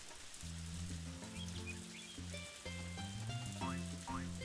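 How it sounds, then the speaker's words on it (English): Steady soft rain patters in the farming video game Harvest Moon: A Wonderful Life, a faint hiss running beneath a looping, bright synth melody, with no voices. "It's hot, but it's raining."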